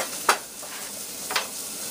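Green beans and potato being stirred in a hot pan, with two brief scraping strokes over a soft, steady sizzle, close and fairly quiet.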